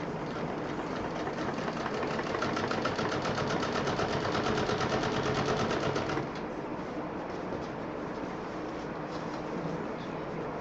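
A sewing machine runs steadily while stitching the seam of a homemade multi-utility bag, a dense continuous mechanical whir that eases slightly in pitch and level about two-thirds through and keeps going to the end.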